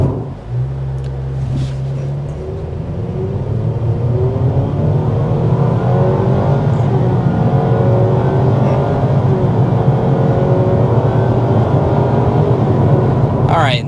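2026 Nissan Sentra accelerating hard in sport mode, engine rising in a steady climbing drone heard from the cabin, loud and continuous with speech over it.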